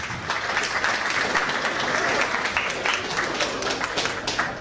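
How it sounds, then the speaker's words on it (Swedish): A boxing audience applauds after an amateur bout, a loud, sustained run of crowd clapping with sharp individual claps standing out and faint voices mixed in. "Stor applåd även till BK Kellys Ismail Adan för en härlig fight"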